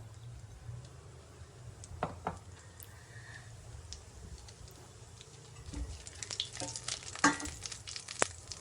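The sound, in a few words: whole spices and cumin sautéing in a pan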